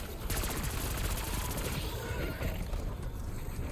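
Sustained full-auto bursts from an AEK 973 rifle in Black Ops 6 Zombies, a dense rapid rattle of game gunfire running continuously and loudly through the whole stretch.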